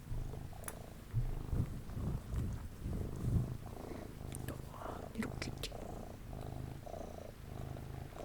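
A cat purring steadily close to a microphone in a quiet indoor setting, the soft rhythmic rumble running throughout, with brief rustles and occasional quiet talking.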